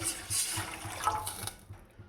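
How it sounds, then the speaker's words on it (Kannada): Water is poured into a cooking pan of blackened chillies and garlic while making jowar masala mudde, a close, splashing trickle that gurgles for about a second and a half, then tapers off quietly. "ಇವಾಗ ಎಷ್ಟು ನೀರು ಬೇಕು ಅಷ್ಟು ನೀರನ್ನ ಹಾಕೋಬೇಕು"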